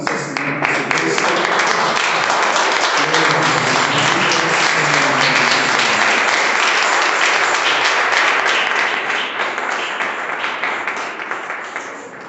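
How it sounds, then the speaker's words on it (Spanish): A church congregation breaks into loud, sustained applause that fills the whole stretch, with voices calling out under the clapping. "Denle un fuerte aplauso a nuestro Señor Jesucristo."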